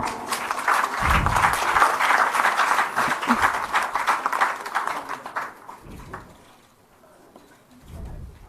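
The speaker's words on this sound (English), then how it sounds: "Once again, let us welcome this moment with a round of applause." A round of applause at a memorandum of understanding signing between the Goa government and a skilling startup, a crowd clapping loudly and steadily for several seconds before fading, then a brief renewed burst.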